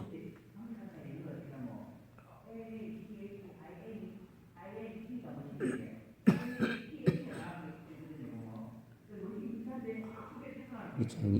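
During a Korean deliverance prayer, a man prays aloud while a person coughs sharply several times in bursts midway, with a few more coughs near the end, all under the continuing prayer.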